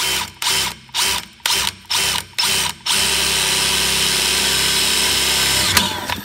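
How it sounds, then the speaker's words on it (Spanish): A power drill fitted with a cobalt-alloy bit bores a hole in metal at low speed under firm pressure: a series of short whirring bursts, then one sustained run, loud and close. "vamos a ir haciendo el primer agujero"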